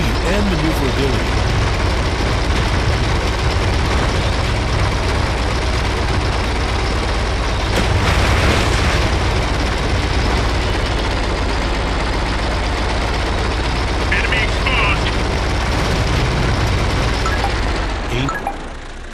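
Tank engine from World of Tanks runs steadily throughout, a deep continuous rumble with a brief louder burst midway, loud and close under a narrating voice.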